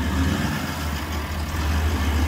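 A Toyota LandCruiser VDJ76 with portal axles and a V8 turbo diesel drives slowly up out of a hole off-road, giving a low, steady engine drone close by.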